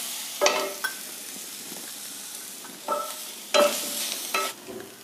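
Grated coconut stirred in hot ghee in a pan, a quiet steady sizzle broken by a few louder bursts of scraping and stirring, close by with no talking.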